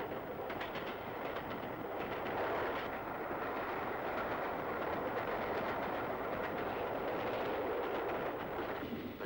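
A steam train running on a UK line, with a steady rolling rumble and faint rhythmic clatter sustained throughout at moderate distance, no voices.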